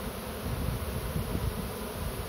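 A honeybee swarm gathering at a hive entrance in a public place outdoors, a dense, steady buzzing hum from many bees close by, unbroken and fairly loud.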